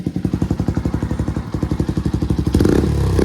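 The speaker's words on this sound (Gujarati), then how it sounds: "ચાલો હું તમને સાયલેન્સરનો અવાજ સંભળાવું" A Bajaj Pulsar NS125 with a full-system exhaust and no dB killer idles near the mic with a loud, steady lumpy putter, then revs up sharply into a harsher, louder roar near the end.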